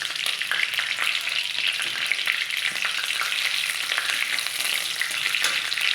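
Dried red chillies, bay leaf and cumin seeds frying in hot oil, a steady, close, dense sizzle that holds at an even loudness throughout with no speech.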